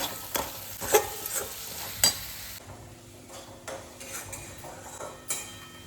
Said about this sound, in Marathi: आता आपण इथं मसाला भाजतोय